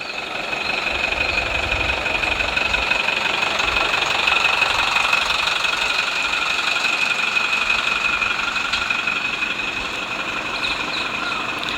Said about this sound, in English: So the septic tank truck is here.